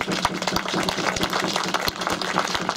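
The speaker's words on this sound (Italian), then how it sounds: "Mi piace questo applauso" Audience applause at a political speech by the MoVimento 5 Stelle in Novi Ligure, Piedmont: steady, dense clapping from a crowd that continues throughout without voices.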